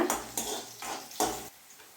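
Metal utensil scrapes and clanks against a pan several times in a steady rhythm, with a faint sizzle of green chilies frying underneath.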